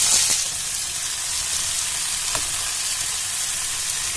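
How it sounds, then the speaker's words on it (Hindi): Tomato and peas fry with onion in a hot pan, giving a steady, close sizzle that runs throughout with a few faint clicks and no talking. "अब इसको हम टमाटर डाल दे रहे हैं इसमें। मटर भी डाल देंगे क्योंकि साथ में मटर भी भून जाएगा।"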